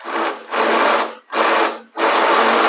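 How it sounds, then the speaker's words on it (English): A drill boring a 1/2-inch hole runs in four bursts of whirring with brief gaps between them, loud and close, rising and falling as the trigger is pressed and released. "I'm going to drill a 1/2-inch hole"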